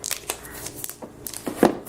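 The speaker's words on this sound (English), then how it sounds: "So let's just remove the plastic" Plastic wrapping crinkles and tears as it is pulled off a new Microsoft Surface Laptop 4, in short crisp bursts with a louder rustle near the end.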